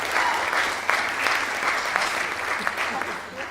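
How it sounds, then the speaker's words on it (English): Wedding guests give the bride and groom a round of applause, a dense, steady clapping from a room of people lasting the whole few seconds, fairly close and even in level. "To the groom and bride, can I have a round of applause?"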